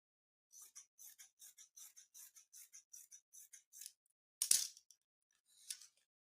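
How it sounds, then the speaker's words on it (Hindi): Scissors snip steadily through dress fabric laid flat for a straight cut, a quick regular run of about a dozen crisp close cuts, then a louder sharp knock and one more faint snip, with no voice. "अब इसको सीधा कट मार लेंगे।"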